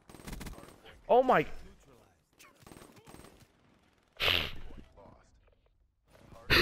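Bursts of rapid gunfire from a gun in a video game shooter, heard in short loud clusters between a player's exclamations and talk.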